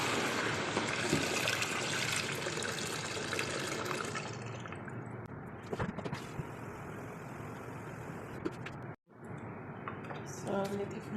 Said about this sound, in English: you add boiled water, 4 liters of boiled water